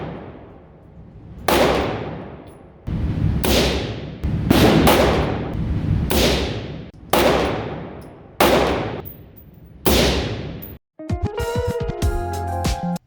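Alternating shots from an unsuppressed 9mm pistol and a suppressed 5.56 10.5-inch AR ring out at an outdoor range. There are about eight sharp, loud reports, each spaced one to two seconds apart, and each decays with a ringing tail.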